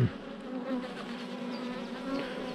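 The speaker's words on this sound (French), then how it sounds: "J'ai 2 abeilles, et encore je sais même pas si c'est des abeilles qui viennent de cette caisse" A steady, continuous buzz of bees swarming around a wooden hive box, a dense insect drone held at close range with no voices over it.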